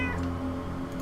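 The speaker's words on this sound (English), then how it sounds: "And a cat." A cat in the post-apocalyptic game UnderRail gives a single drawn-out meow, clear and close, with a faint tick in the background.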